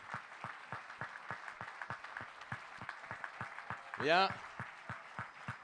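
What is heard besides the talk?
audience applause at conference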